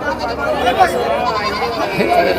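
Goats bleat repeatedly in wavering cries, overlapping with people talking nearby in a busy, crowded livestock market in Gudur.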